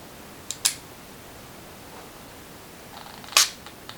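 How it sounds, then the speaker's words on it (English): Mechanical clicks of a Cosmic 35 camera's leaf shutter firing: a quick pair of sharp snaps near the start, then a louder single click later, close and crisp against a quiet background. "let's have a look at inside it and have a look at the leaf shutter"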